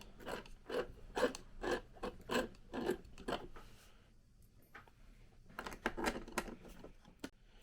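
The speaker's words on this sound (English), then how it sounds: "And then you're going to want to add the screws on each side." Faint, close scratchy rasping of a screwdriver driving CPU cooler screws into place, in rhythmic short strokes, then a pause before another run of turns.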